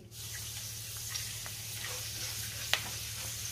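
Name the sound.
shredded potato frying in oil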